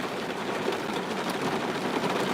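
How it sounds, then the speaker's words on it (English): Heavy rain pours down outside a car, a dense, steady hiss and patter heard from inside the vehicle, continuous and fairly loud with no voices. "it's raining hard outside"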